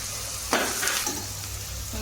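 Curry leaves crackling in hot oil with chopped onion and salt for aloo paratha filling, a sudden burst of sizzle and spatter followed by scraping stirs, close up with no voices.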